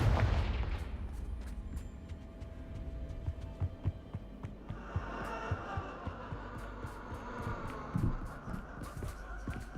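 Confringo, a fiery blast spell cast in the Hogwarts Legacy game, fired repeatedly: a series of sharp, fairly quiet cracks and pops with a bright explosive burst midway, over low ambient hum and no talk.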